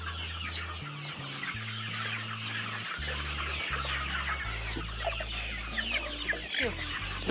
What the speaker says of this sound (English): These are chicken. This is our chicken house.